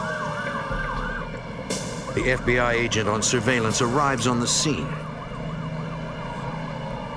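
An ambulance siren wails steadily in the background of an FBI surveillance shooting scene, while someone talks over it for most of the stretch.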